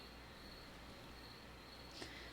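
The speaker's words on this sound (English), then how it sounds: "if you hear the cheeping right now, those are crickets" Crickets chirp in a quiet garden setting, a faint steady high trill running throughout, with one small click near the end.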